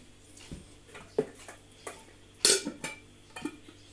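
A spoon scoops a summer vegetable salad into glass jars, giving scattered clinks and taps of metal on glass at an irregular pace, fairly close and quiet against a low steady hum.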